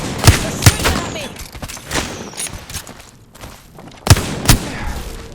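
Weapon fire in the battle royale shooter Apex Legends: several sharp, loud gunshot cracks in scattered bursts over a busy game mix of footsteps and effects.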